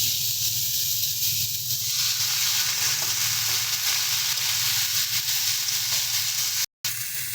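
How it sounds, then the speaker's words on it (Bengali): Washed chickpea greens added to a hot frying pan with vegetables and lentil dumplings, a loud, steady hissing sizzle that settles into continuous frying, with a short silent gap near the end. "এবারে আমরা এর মধ্যে যে ছোলার শাকটা আমরা ধুয়ে পরিষ্কার করে রেখেছিলাম সেটা দিয়ে দিচ্ছি"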